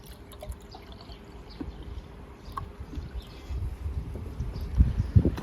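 Liquid hydrolysate fertilizer for grapevines is poured into water, a soft trickling and gurgling that grows louder and splashier toward the end, with faint background noise.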